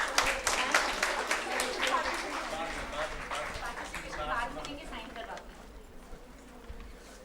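Participants at a dental and facial aesthetics conference clap for the poster prize winners, a crowd applause heard moderately loud under and around a speaker's voice, gradually thinning out.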